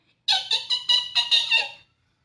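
A voice imitates high-pitched animal chatter, six or seven quick squeaky chirps in a rapid run, close and fairly loud with nothing else around.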